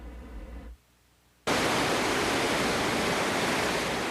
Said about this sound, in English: the waves are crashing ashore on Galveston Beach